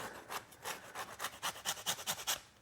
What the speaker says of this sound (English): Grate the orange zest into the mixture as well as 1 lemon.